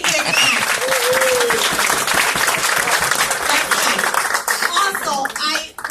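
Loud, dense applause from a crowd at an Ecuadorian celebration fills the clip, with cheers and a few raised voices mixed in, tapering off at the end.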